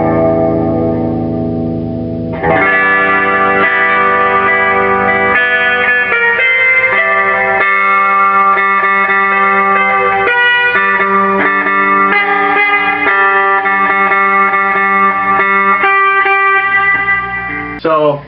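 A Klein's Guitarworks LFM Fretless Monster guitar, played through effects with reverb, rings out in sustained, shimmering chords and notes that begin after a short quiet lead-in and continue loud and steady to the end.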